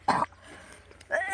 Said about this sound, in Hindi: खांसी आवे लाग है।